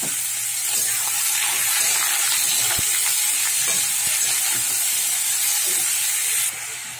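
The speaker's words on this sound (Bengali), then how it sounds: "এর মধ্যে এবারে আমি বিটটা ভেজে নেবো" Beetroot fries in a pan with nigella seeds and green chilli, making a loud, continuous steamy hiss and crackle up close. The sound eases slightly near the end, and no one speaks.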